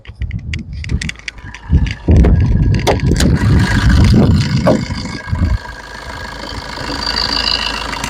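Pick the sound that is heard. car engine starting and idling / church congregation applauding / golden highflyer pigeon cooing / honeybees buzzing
car engine starting and idling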